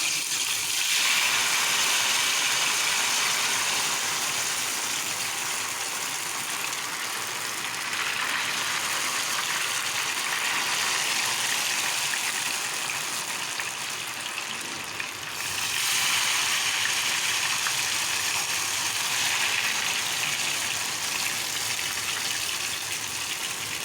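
Ghevar batter poured in one continuous stream into hot ghee, producing a steady, loud bubbling hiss that runs throughout with slight swells in intensity.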